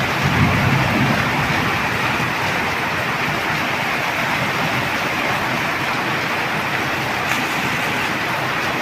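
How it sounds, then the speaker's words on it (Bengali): Heavy rain pours in a steady, loud broadband roar during a thunderstorm, continuous throughout without a clear distinct thunderclap. "প্রচুর বৃষ্টি, প্রচুর বজ্রপাত হচ্ছে"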